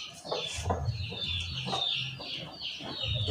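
Sick chicken with rattling, snoring breath, repeated raspy wheezes and gurgles in a steady rhythm, close and fairly faint, with chicken clucks mixed in.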